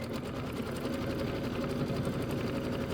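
A sewing machine stitches across a Kimberbell Hello Sunshine traditional pieced quilt block, running in a steady, continuous fast hum at close range with no talking.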